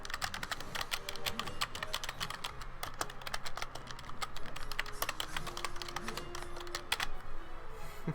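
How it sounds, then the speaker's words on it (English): Keystrokes on a computer keyboard tap out rapid, irregular clicks at close range, a steady stream of typing over a low background hum. "if I put my keyboard exactly where it was, this is the sound"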